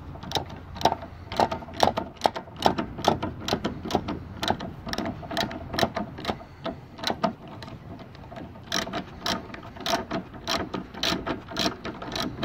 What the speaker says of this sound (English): now I'll remove this bolt too and we'll see where it will go